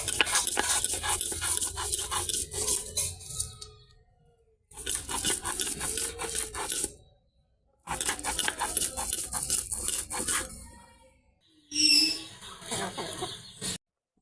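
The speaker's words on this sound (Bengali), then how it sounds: "এখন ডালও বেটে নেব।" Lentils (dal) being ground into a paste on a stone, rhythmic rough scraping strokes in three long bursts separated by pauses, close and fairly loud, then a shorter scrape.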